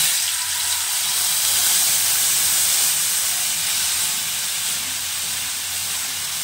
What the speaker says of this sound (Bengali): ভালো করে কষিয়ে নেব, পোস্তর কাঁচা গন্ধটা চলে যাবে